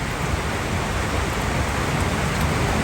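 Heavy rain pours down outdoors near a pigeon loft, a dense, steady hiss and patter filling the whole stretch without letup and no voices over it.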